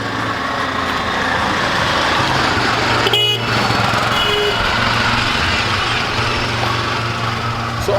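Loud traffic on a small village road in Gokarna, with auto rickshaws and other vehicles, steady engine drone, a brief horn toot and passing motor noise close by.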